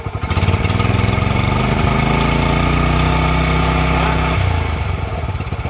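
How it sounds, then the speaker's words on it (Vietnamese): Small engine on a Japanese high-pressure washer, running loud and close, revving up and holding a steady, slightly knocking drone for several seconds before easing back toward idle. "bây giờ mình test nhanh cho anh em xem cái động cơ ha"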